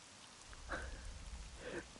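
Rain in Devil May Cry 3 falls as a steady low hiss of rainfall, with a couple of brief brighter splashes or swishes rising out of it.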